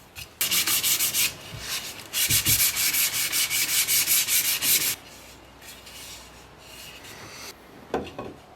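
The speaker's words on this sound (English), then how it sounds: "From there, it's just some sanding." Sandpaper is rubbed on wooden picture frames by hand in rapid back-and-forth strokes, heard as two close, loud bursts of rhythmic scratching separated by a short pause, then quieter handling.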